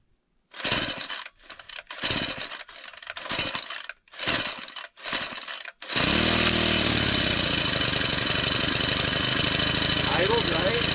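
A Craftsman WS4200 string trimmer, warm from an earlier run, is pulled several times with short sputtering bursts before the small two-stroke engine catches and settles into a loud, steady buzzing idle.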